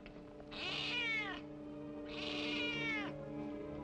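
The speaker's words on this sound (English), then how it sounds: "That cat gives me the willies." A cat meows twice, in two drawn-out, wavering cries about a second apart over a faint steady hum, in a 1955 television western.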